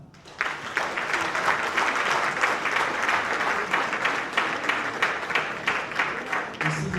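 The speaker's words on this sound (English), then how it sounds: "Please, another round of applause." Audience applause at an outdoor event with goodwill messages, a loud, sustained burst of many hands clapping, rising quickly and holding steady with slight pulsing throughout.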